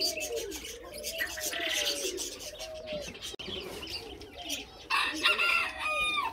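Silkie hens placed in a cage make soft repeated clucks and low cooing calls, close by over a faint background murmur.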